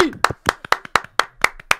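A single person clapping slowly and evenly, about eight crisp, close hand claps at a regular beat, with a voice briefly heard at the start.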